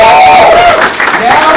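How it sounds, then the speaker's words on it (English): Audience applause and cheering from a crowd at a vape convention panel on stage, a steady wash of clapping that holds for the whole moment with a slight dip midway, loud and close, voices mixed in. "Give them both a round of applause."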